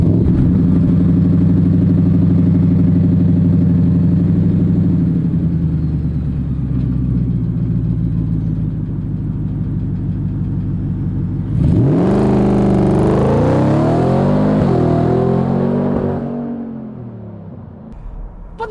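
A 2024 Ford F-150 Raptor with its EcoBoost V6 drones at a steady, loud idle-like rumble, then revs hard in a rising, wavering surge before settling back down.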